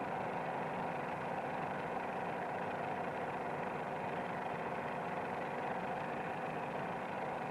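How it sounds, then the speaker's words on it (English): A steady, droning engine of a PT-17 trainer plane in a steep nose-high climb, with a constant low hum and slight vibration, running continuously and laboring evenly throughout. "If we pull the nose up too high, you can hear the engine begin to labor."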